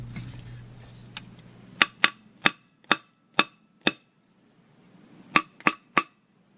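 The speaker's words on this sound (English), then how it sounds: "Again, you only want to hit on the outer race." A hammer strikes a bearing's outer race in two bursts of sharp metallic taps, six quick blows followed by three more after a short pause, close and distinct with no talk.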